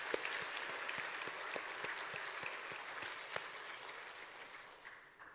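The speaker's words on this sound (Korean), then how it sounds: "왜 박수를 치다가 마세요?" A dawn revival service congregation claps in a Korean church, fairly faint, with distinct scattered hand claps at an uneven rhythm that thin out toward the end.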